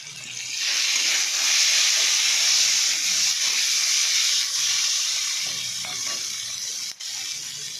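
Turmeric and chillies dropped into hot oil, producing a loud, continuous hissing sizzle that holds steady throughout with faint clatter underneath.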